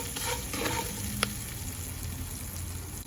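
Spiced pork chops being stirred and fried in a pan: a soft continuous sizzle with scraping stir sounds and one sharp clack, close and fairly quiet.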